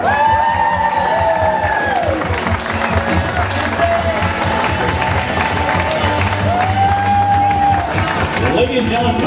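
Wedding reception crowd applauds and cheers for the bride's parents, sustained clapping with whoops while an announcer's voice carries over it.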